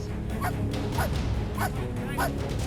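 A police dog barks repeatedly, about four sharp barks at a steady rhythm, close and loud over a noisy outdoor background.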